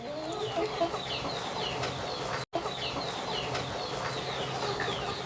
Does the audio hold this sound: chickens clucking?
yes